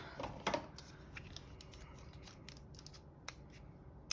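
Scissors trimming a paper label for a junk journal pocket album, a few quick close snips near the start followed by faint scattered clicks and snips in a quiet room.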